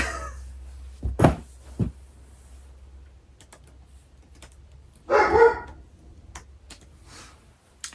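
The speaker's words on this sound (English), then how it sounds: "Don't know what the dog's barking at." A dog barks indoors in a few short, separate bursts spread across a mostly quiet room, with light tapping and clicking between them and no talking.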